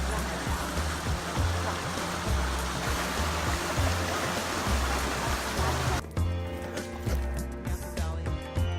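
A creek in Sedona rushes with a dense, steady wash of flowing water, close and continuous, its texture shifting partway through as the spot changes; no one speaks.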